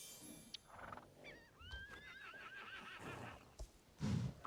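A horse in the Star Stable video game neighs in a long wavering whinny, preceded by a few soft hoof clops and quieter game sounds, ending with a low snort.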